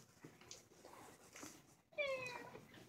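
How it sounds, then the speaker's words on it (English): A cat meows clearly and fairly close after a few seconds of quiet indoor rustling and muffled voices. "furry feline friend so I can go start the purr motor"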